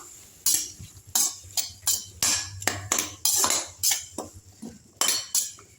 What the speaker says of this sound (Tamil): இப்போ எல்லாத்தையும் வதக்கி விட்டுடலாம்